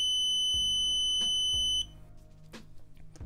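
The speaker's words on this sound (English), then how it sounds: "There's also what Seed Studio refers to as a buzzer within a unit. I would have called this a beeper instead" A Seeed Studio reTerminal's built-in buzzer emits a continuous high-pitched electronic tone that cuts off abruptly partway through, with a few soft clicks and knocks around it in a quiet room.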